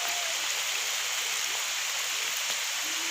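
Water flows steadily along a stream carrying rubber latex from tapped trees, a continuous bright rushing wash like light rain, close and even, with no talking.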